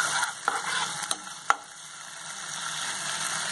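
Pabda fish curry cooks in oil in a pan, giving a soft continuous sizzle with a few light clinks and taps near the start, heard close with no talking.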